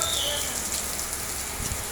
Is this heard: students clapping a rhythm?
no